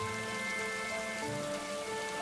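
Heavy rain pours down in a constant, even hiss on a forest road at night, with sustained eerie musical tones held underneath.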